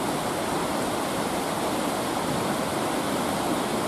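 Creek water flows in a steady, even rush of broadband noise, heard close and unbroken in a mountain river setting with no voices.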